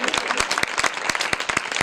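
A church congregation claps during a sermon, a brisk run of sharp, uneven handclaps close by, with a voice faintly present underneath.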